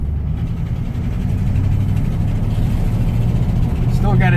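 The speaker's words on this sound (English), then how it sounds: "we're gonna go ahead and pull her around the block, see how she feels" A classic car engine runs steadily as the car drives around the block, a low continuous rumble with a slight exhaust leak, holding loud and close throughout.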